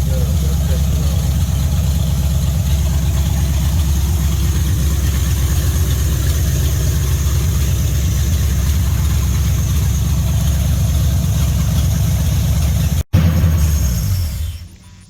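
A Buick Nailhead V8 idles in a 1949 GMC hot rod truck, a loud, steady low rumble that runs continuously, then cuts briefly near the end and tapers off.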